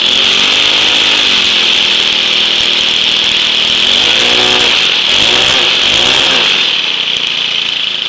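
A homemade four-stroke outboard motor of about half a horsepower runs loud and close with a buzzing, high-pitched drone, its pitch sweeping up and down repeatedly as it revs and accelerates.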